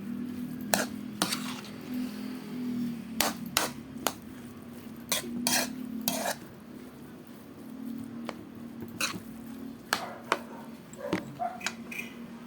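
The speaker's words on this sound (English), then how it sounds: "and continue mixing. This will also add a bit of flavor to our lumpia filling" A spoon stirring and mixing lumpia shanghai filling in a bowl, with steady soft scraping and repeated sharp clinks against the dish.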